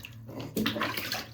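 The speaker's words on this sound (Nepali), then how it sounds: "पानी आयो" Tap water pours into a bathtub for an 83-day-old baby girl's bath, a steady gushing splash that swells louder partway through, with no talk over it.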